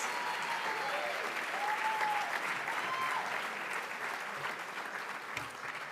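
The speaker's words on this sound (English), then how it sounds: "Can I get a round of applause for him in his mess dress?" A crowd at the Army Week Gala 2013 gives sustained, dense applause for a man in mess dress, a full roar of clapping with a few faint whoops that tapers slightly toward the end.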